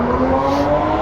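Loud Porsche engines revving nearby at a car meet, a dense, sustained roar.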